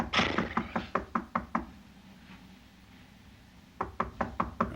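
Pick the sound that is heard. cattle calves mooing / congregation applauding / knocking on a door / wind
knocking on a door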